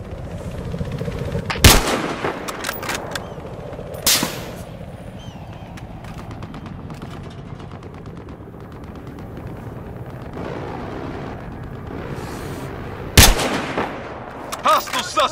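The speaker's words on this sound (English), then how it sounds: "a guy was sniping and I took him out" Sniper rifle fire in a shooting video game cracks out as three loud, isolated shots spread across a long, steady bed of in-game ambience and distant rumble.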